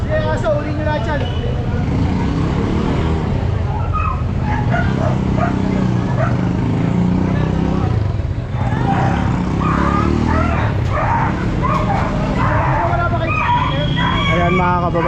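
Tethered dogs barking and yipping beside a Manila sidewalk during a street clearing operation, repeated barks over busy crowd talk and traffic noise, close and continuous.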